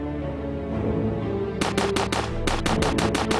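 Video game gunfire: a quick burst of sharp shots, a brief pause, then a second rapid run of close, loud shots over a steady droning game soundtrack.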